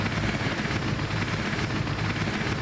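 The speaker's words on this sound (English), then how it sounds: "Donald Trump's personal helicopter descended onto the small airfield" Donald Trump's personal helicopter descends onto a small airfield with a dense, continuous roar of engine and rotor noise, loud and steady throughout.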